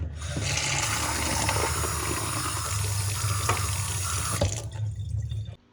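Water runs steadily from a tap into a container where a battery clamp soaks with baking soda during a family radio restoration, a loud continuous splashing rush that stops abruptly near the end.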